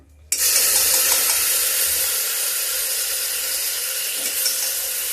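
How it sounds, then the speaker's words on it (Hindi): Water poured into a pan of cooking masala of cumin, garlic, ginger and onion paste in little oil bursts into a sudden loud hiss and sizzle that keeps going, easing slightly as it settles. "अब इसको भी हम पानी डालते हैं, क्योंकि तेल हम कम डालते हैं।"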